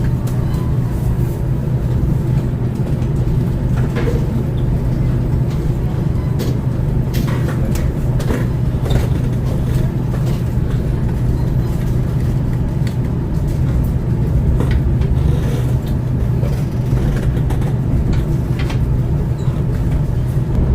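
Steady, loud rumbling drone of the Parahyangan passenger train moving along the tracks through the Sasak tunnel near Padalarang, West Bandung, a continuous low roar with faint rattles, heard from inside.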